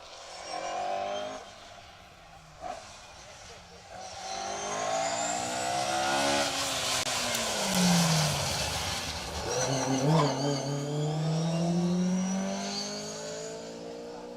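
A rally car engine revs and roars as it comes down a hill on an asphalt rally stage, pitch rising and falling through gear changes, loud and close, then fading slightly.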